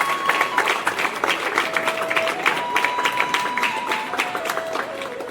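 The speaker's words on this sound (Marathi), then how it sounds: "जोरदार टाळ्या आजच्या आपल्या सगळ्यांसाठी, तुमच्यासाठी सुद्धा" An audience at a Konkan village cultural performance gives performers a sustained round of applause, dense clapping rising and falling in waves with a few tonal whistles over it.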